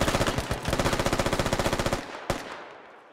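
A machine gun in the military shooter Squad fires a sustained rapid burst of evenly spaced shots, loud and fairly close, then stops, followed by one more single shot and a fading echo.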